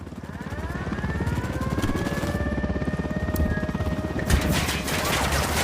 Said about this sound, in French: Un hélico!